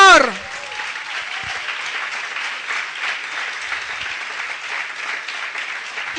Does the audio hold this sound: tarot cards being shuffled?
no